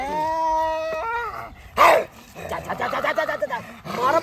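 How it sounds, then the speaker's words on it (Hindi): A dog gives a sharp yip amid a comedic Maithili scene, a single brief bark between stretches of voices and a tonal sound, with people talking afterward. "ई कौन छगला कुत्ता"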